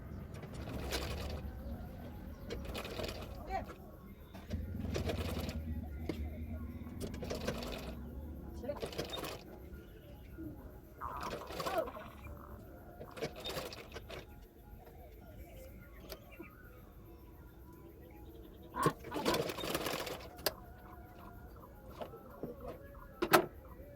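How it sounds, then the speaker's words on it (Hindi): Electric sewing machine stitching the sleeves of a bra-cut blouse, running in short bursts with pauses between them, fairly quiet and close, with someone talking in between runs. "तो दोनों स्लीव को मैं इसी तरह से सिलाई कर लूँगी"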